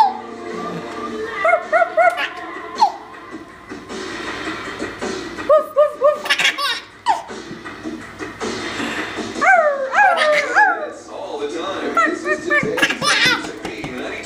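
A child makes high, yelping dog-like barks in short bursts, imitating a puppy, with an adult voice talking in between.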